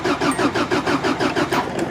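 A Chrysler Firepower engine cranks over on a cold start, a loud, steady rhythmic chug of the starter turning the engine about eight times in quick succession, heard close with no voices.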